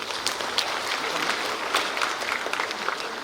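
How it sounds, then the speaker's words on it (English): A round of applause from an audience at a health summit in a convention centre, with continuous clapping and scattered sharper claps throughout. "Can we show our appreciation with a round of applause"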